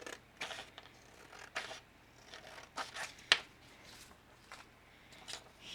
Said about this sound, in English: I want to cut out this square or rectangle.